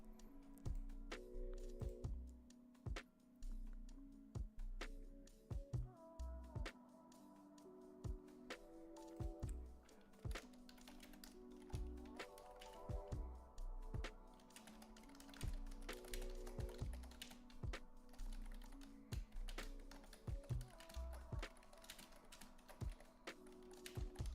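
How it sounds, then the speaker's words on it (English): Rapid typing on a computer keyboard, a dense run of close clicking keystrokes in quick bursts with brief pauses, steady and moderately quiet throughout, with no voices. "I know y'all hear me typing like crazy over here."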